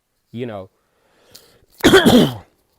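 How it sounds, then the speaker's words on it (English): A single short cough-like burst from one person, fairly close, followed by brief silence; no talking. "excuse the cough"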